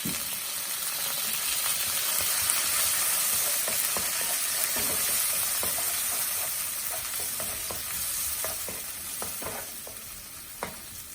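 Garlic fried rice with soy sauce sizzles in a pan: a constant close hiss of frying under occasional light scrapes and clicks of stirring, with no talking.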